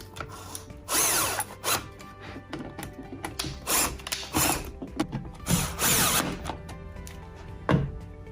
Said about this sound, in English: all we're going to do is screw our fittings in